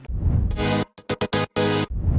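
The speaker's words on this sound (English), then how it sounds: "Chords without effect sounds like this." Dry synthesizer chords play in a short rhythmic pattern: a long stab, several quick choppy hits, then another sustained chord, clear and upfront.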